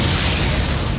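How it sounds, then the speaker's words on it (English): Cartoon spaceship explosion after being fired on, a loud, dense roaring blast that stays at full strength through the whole short burst. "the ship blew up with Miguel on it"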